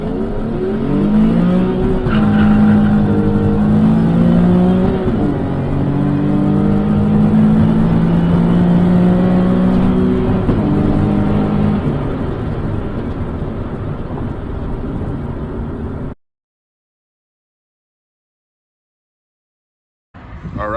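A stock Nissan 370Z accelerating hard from first through fourth gear with no-lift shifts, a loud steady engine roar climbing in pitch, with quick drops at each shift before cutting to silence near the end.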